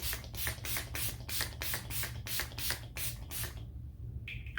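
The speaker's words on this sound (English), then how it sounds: "you can actually go ahead and just put your finishing layer of setting spray" Makeup setting spray is pumped as a finishing layer in a run of quick, rhythmic hissing bursts, about a dozen close spritzes over a low steady hum, followed by a short quiet gap and a faint final sound.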